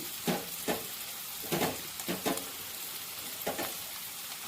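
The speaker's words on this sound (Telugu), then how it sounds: "పచ్చిమిర్చి కూడా మంచిగా వేయే వరకు ఇలాగే కలియ పెట్టుకుంటూ ఉందాము" Onion and finely cut green chillies sizzle in an oiled pan, with a steady frying hiss broken by a string of sharp scraping stirs at an uneven rhythm.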